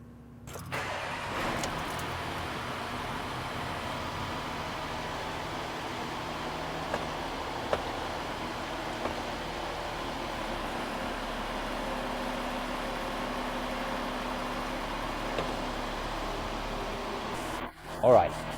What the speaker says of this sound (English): In neutral, you then rev the engine up to 2000 RPM and hold it there for about 60 seconds.